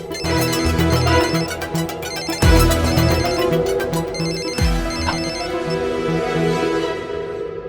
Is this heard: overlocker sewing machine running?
no